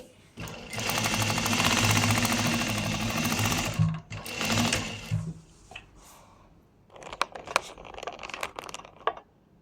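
Sewing machine running steadily as it stitches lines across old cloth, a loud continuous rattling drone for about four seconds, a shorter burst after a pause, then quieter handling clicks and rustles of the fabric.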